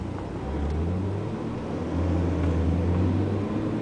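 A car drives through city streets in St. Louis, heard as a steady low engine hum and road rumble from inside, swelling slightly as the car picks up speed.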